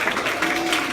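A church congregation claps together in one brief, steady burst, with a faint sustained tone running under the applause.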